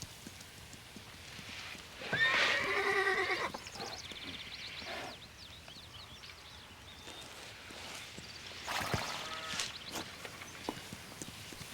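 A horse near a corral gives a loud whinny, then a second, fainter whinny later on, with soft hoof clopping and rustling in between.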